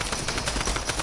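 Rapid continuous minigun fire in the video game Fortnite, a dense, loud, steady rattle of shots running throughout with no break and no talk over it.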